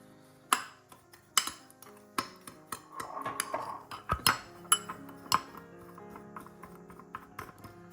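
Lumpy sugar for a beef rib rub is stirred in a bowl, giving repeated sharp clinks and scrapes of utensil against the bowl in irregular bursts, close and fairly clear, with no talking.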